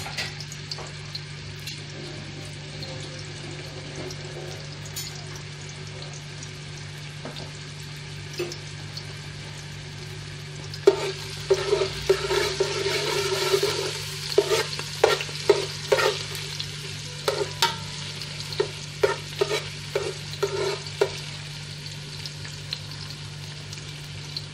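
Ginger sautés in a hot pan for fish biryani, a steady sizzle joined midway by a burst of sharp scraping and stirring clatters, then intermittent stirs, with no voices.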